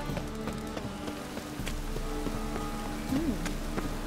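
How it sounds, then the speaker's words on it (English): Steady rain patters across a Witcher 3 game world, a continuous soft hiss with scattered drops, mixed with faint background music tones and occasional thuds. "Looks like rain."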